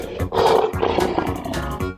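A lion roars in an animal slide video game, a loud, rough, sustained roar with growling pulses, close and alone.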